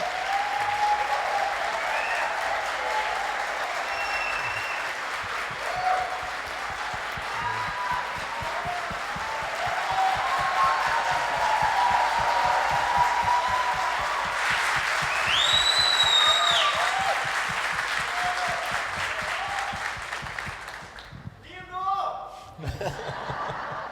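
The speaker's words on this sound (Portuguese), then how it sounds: "gostaria que nós o recebêssemos com uma salva de palmas para a glória do Senhor" A church congregation applauds to welcome Pastor Márcio Tavares, a sustained crowd of clapping hands with scattered laughter and a voice or two over it, swelling mid-way before tapering off near the end.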